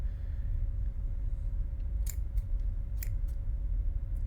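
A few quick, crisp snipping sounds of scissors in a horror short cut through a low background rumble, spaced irregularly over a couple of seconds.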